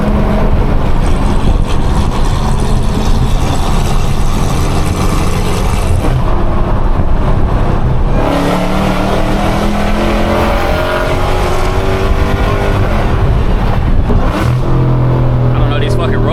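Dodge Hellcat exhaust droning loudly on a highway in Atlanta, a constant deep engine roar with rising revs near the end, while someone talks over it throughout.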